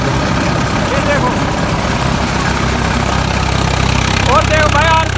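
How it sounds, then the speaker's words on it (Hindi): A tractor engine strains under heavy load with its fan belt gone slack, a steady low rumble running throughout, while a voice talks over it and brief whining squeals come through near the end. "ट्रैक्टर अपनी पूरी ताकत लगा रही है भाई, फैन बेल्ट जो बिल्कुल ढीली पड़ गई।"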